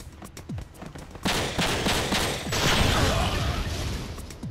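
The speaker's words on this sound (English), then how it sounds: "The hell was that explosion?" Explosion and gunfire in the Xbox game Breakdown, a sharp blast followed by a dense rattle of rapid shots and crackling debris that swells louder and keeps going.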